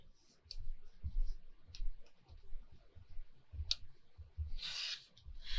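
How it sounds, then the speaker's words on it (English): A paper cutter trims out a picture with soft, quiet clicks and ticks at an uneven pace, followed by a brief swishing slide of the blade. "I'm going to use my cutter because I can't cut a straight line even when I have a straight line to go off of"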